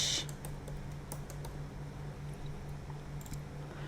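Quick, light keystrokes on a computer keyboard tap in irregular bursts over a quiet room with a faint steady hum, no voices.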